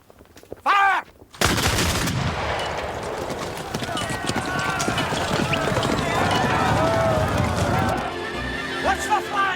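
A volley of muskets fires on command in a period battle scene, bursting into a dense, prolonged crackle of shots mixed with galloping hooves and shouting voices, the din staying loud and chaotic for several seconds.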